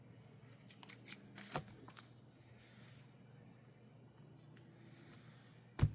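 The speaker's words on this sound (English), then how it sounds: "This one I will trim just a little bit off." Scissors trimming a small piece off paper for a supersize journal, several faint, quiet snips near the start, then soft handling rustle and a sharper bump at the end.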